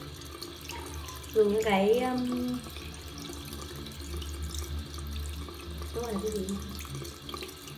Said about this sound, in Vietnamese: Rửa vào nước này.